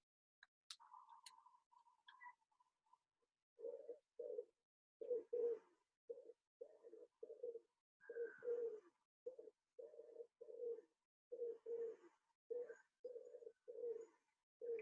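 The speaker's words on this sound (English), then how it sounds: "It's the wood pigeon, not to be confused with the feral pigeon that we see all around the place as peregrine fodder." A wood pigeon coos in its lilting rhythm, clear and alone in quiet surroundings, with repeated soft hooting phrases in short grouped bursts, after a few brief higher chirps from another bird.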